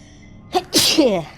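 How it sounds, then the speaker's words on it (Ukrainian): A single sharp human sneeze, close and loud: a brief inhaled catch and then an explosive burst that trails off quickly against a quiet background. "я зразу починаю пчати"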